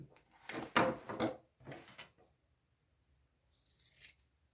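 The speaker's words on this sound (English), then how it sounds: "And then just cut along that line." Scissors cut through blanket fabric along a drawn line, giving several close, crisp snipping bursts in the first two seconds, then a pause and a brief faint rustle near the end.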